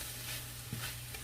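Steak and sauces sizzle steadily in a pan while a utensil gives them a brief stir, a single soft scrape over the constant frying hiss, close and quiet.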